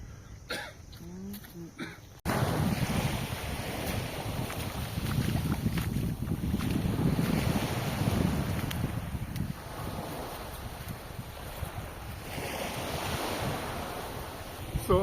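Sea waves wash steadily at Double Island beach in Palawan, a pair of islands joined by a sandbar, a broad continuous surf roar that swells and settles, with wind and occasional voices faintly underneath.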